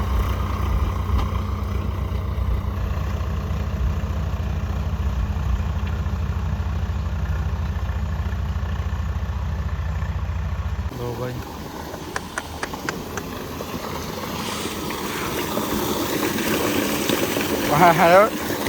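A tractor engine idles with a steady low rumble, then the sound turns rougher and noisier with scattered clattering near the end.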